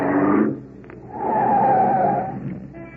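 A car pulls up and its tyres screech in a drawn-out skid, the engine roar swelling and then fading, as a radio drama sound effect.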